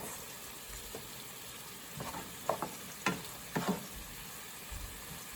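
Spaghetti cooking in a pan on low heat, a quiet steady sizzle with a few soft clinks and stirring clatters scattered through, no voices.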